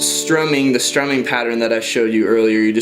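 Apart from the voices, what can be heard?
No distinct noise like a dog, phone or traffic.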